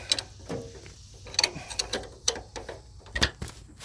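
A deck height knob on a zero turn mower being turned by hand gives a run of close, irregular ratcheting clicks and metallic ticks, with short pauses between turns.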